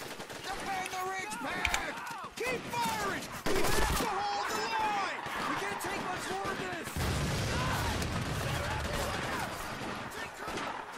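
Enemy gunfire from the trees in Medal of Honor: Pacific Assault, at Guadalcanal: scattered shots and rattling bursts crack and echo at middle distance, with shouting and talk layered through the whole stretch.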